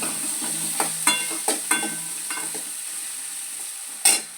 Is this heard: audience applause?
no